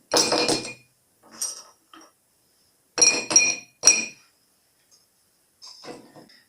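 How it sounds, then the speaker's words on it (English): Ice cubes drop into a glass tumbler for a cocktail in several clinking bursts: a rattle at first, then a few lighter taps, a quick double clatter and one final clink, all close and with no talk. "get a tumbler, put some ice into it"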